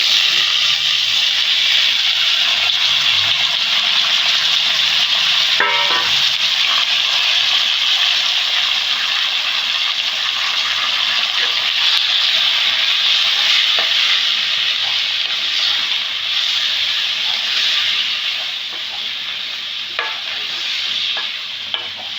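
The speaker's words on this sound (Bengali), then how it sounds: "এবার চাল কুমড়ো যে নুন হলুদ মিষ্টি মাখিয়ে রেখেছি দিয়ে দিচ্ছি চাল কুমড়ো।" Ash gourd coated in salt, turmeric and a little sugar fries in a pan, giving a loud, dense, continuous sizzle with one brief clink of a utensil, easing slightly toward the end.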